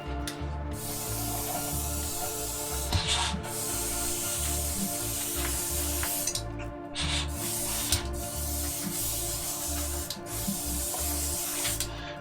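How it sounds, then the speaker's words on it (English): An airbrush hisses steadily while spraying tap water onto an Airfix Cromwell Mk IV 1/35 scale model tank, with a continuous close spray broken by a few brief pauses and the hum of the compressor underneath. "So it's just going to be a case of spraying some water, and in the airbrush I've literally just got a bit of tap water."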